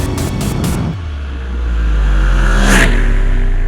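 Royal Enfield Continental GT 650 motorcycle accelerating hard through low gears, its engine note rising and swelling into a loud, sustained drone after a brief burst of clatter, heard up close with no talking.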